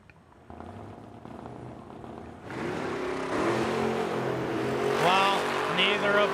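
Drag racing cars, a Mustang among them, launching down the track at a Edmonton dragstrip, engine roar building from a low rumble to a loud wail, with an announcer talking over it.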